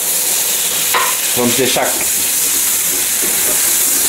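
Mushrooms frying in a pan as white wine is poured in, a loud steady hissing sizzle with a few brief stirring and clinking sounds while a voice speaks briefly.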